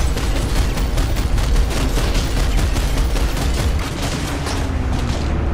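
Rapid gunfire and explosions from a Planetside 2 battle with an enemy Galaxy aircraft overhead, a dense, loud, sustained barrage of shots without pause.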